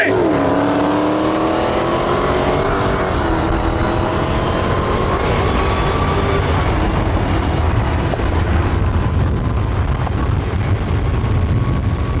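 Dodge Challenger and Charger Hellcat cars race side by side in a loud, continuous engine roar with a high whine that climbs in pitch, then holds steady and eases off, with no talking.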